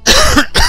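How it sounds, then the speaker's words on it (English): A single close, loud cough with a short second burst, from someone narrating a city-building game. "I do apologise, keep coughing like that."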